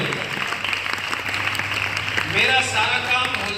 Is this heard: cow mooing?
no